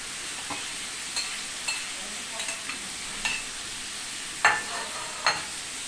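Fried egg and onion are stirred into vegetables cooking in a pan, giving a quiet sizzle broken by several sharp scrapes and knocks from the spoon, loudest near the end.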